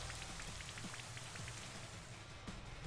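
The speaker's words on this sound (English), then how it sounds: "Here comes the rain." Steady game rain from the Rain Dance move in Pokémon Sword, a dense even patter of falling drops with scattered brighter splashes, continuous and fairly soft throughout.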